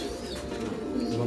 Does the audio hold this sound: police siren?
no